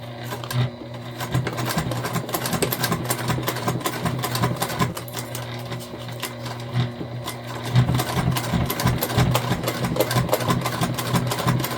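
A sewing machine stitches a self-drafted tote bag, a close, steady motor whir with rapid needle ticking that runs almost continuously, with a brief pause and a louder resumption partway through.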